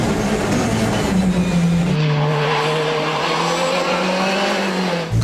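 A Citroën Xsara WRC rally car is driven hard on wet terrain, its engine droning loudly and shifting pitch as it accelerates, with a continuous wash of tyre and road noise close by.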